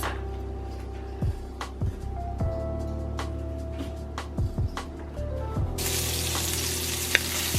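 Pork fat sizzling and frying in a pan, with a steady, loud, close crackle and occasional clinks of utensils as food for bao buns cooks.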